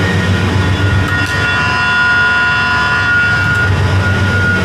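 A dairy farm milking machine running under vacuum to pull the milk, a loud, steady mechanical drone and hum with a constant tonal whine, close by and unbroken throughout.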